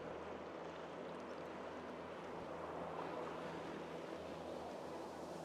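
A mountain river rushes at the confluence of two rivers in the Pamir mountains of Tajikistan, giving a steady, soft, continuous wash of flowing water with no breaks.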